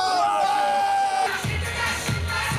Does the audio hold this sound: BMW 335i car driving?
no